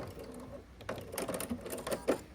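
A sewing machine joins quilt pieces into a row in short, quiet bursts of rapid stitching, close by, with faint low talk.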